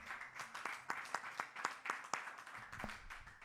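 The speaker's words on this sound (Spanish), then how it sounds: "Denle una ofrenda de palmas al Señor" A church congregation gives a short burst of applause during a Sunday school service, a close, moderately quiet patter of scattered hand claps in an uneven rhythm, with no voices over it.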